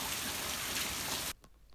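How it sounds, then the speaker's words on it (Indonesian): Steady, dense rain falls outdoors in a continuous hiss, close and moderately loud, then stops abruptly, leaving a quieter background with a few faint drips. "Nah kan hujan kan, iya seperti itu memang."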